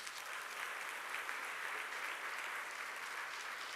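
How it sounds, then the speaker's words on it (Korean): Steady applause from a seated audience at a Christian business conference in a hall, a dense, even patter of many hands clapping throughout, moderately distant and without speech. "그래도 박수 부탁드립니다."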